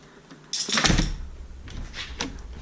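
A Kwikset door handle, newly reattached, is turned and worked: a few quiet clicks and a light rattling latch sound against soft room noise, with no talking.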